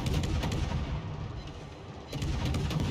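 Rapid, overlapping booms of warship secondary guns in World of Warships, a dense continuous barrage of close, loud cannon fire with a brief lull before the volleys pick up again.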